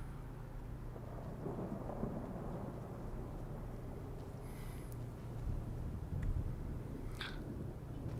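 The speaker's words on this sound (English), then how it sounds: "there's that storm going on outside" Thunderstorm outside in the video game Enderal, a constant low roar of rain with rumbling thunder beneath, faint and steady throughout.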